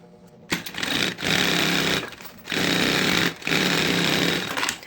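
A sewing machine runs in three bursts, stitching a safety seam along the side edge of a handbag lining, its motor whirring close and steady with short pauses between runs.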